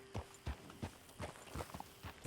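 Horse hooves walking in Red Dead Redemption 2, a regular clip-clop of about seven soft, close steps at an even pace, with no one talking.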